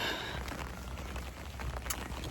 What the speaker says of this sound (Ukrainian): але йде дощ